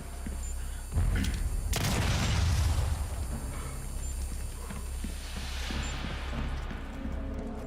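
Gunfire at turrets in Resident Evil 4 Remake: a sudden loud burst of rapid shots and impacts lasting about a second and a half, then a steady lower rumble of game ambience.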